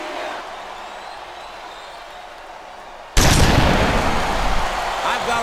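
A wrestling arena crowd erupts suddenly into loud, sustained roaring and shouting at the superstars after a quieter stretch, a dense wall of noise that swells toward the end.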